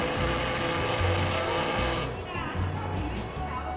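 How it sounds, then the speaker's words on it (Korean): Kitchen blender pureeing soft, well-boiled broccoli and vegetables, a loud continuous motor whir with a shift in pitch partway through as the blades spin through the smooth mixture. "그 상태로 이제 믹서기에 굉장히 곱게 갈아줬습니다"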